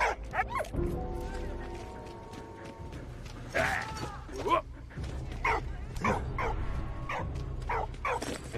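A dog in the video game Valiant Hearts barks repeatedly in short, sharp yips and whimpers over game sounds, with someone talking in between.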